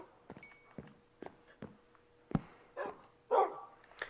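Dogs in a video game, the player's pet dogs being fed, let out a series of short barks and yips spaced across a few seconds, fairly close and moderately loud, with no talking over them.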